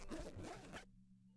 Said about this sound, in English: Detective Hound, unzip that zipper.